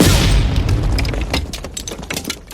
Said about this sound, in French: ça c'est du pétard!